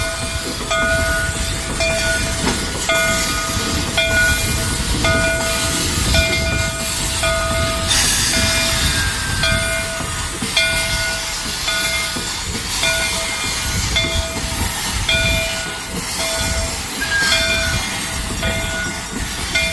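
A steam locomotive built in Lima, Ohio, with vertical pistons runs close by at a railway museum, with steady hissing, clanking and rumbling mechanical noise that goes on continuously, without voices.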